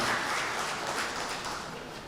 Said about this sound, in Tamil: நல்ல ஒரு உற்சாகமான கைத்தட்டலோடு தொடங்கிடலாம்.